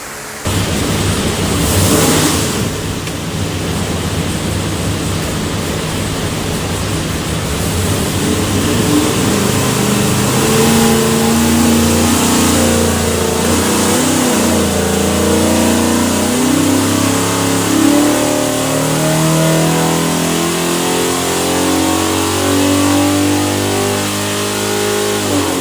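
A 489ci big block Chevy runs on a dyno, idling briefly before a long, loud pull where the engine revs climb steadily, its rising harmonic drone sweeping upward across the run with no talk over it.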